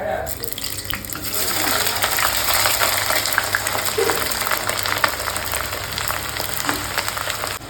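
Onions sizzling in hot oil in a pan for chicken korma, a steady crackling hiss that runs throughout with small pops and occasional spoon scrapes.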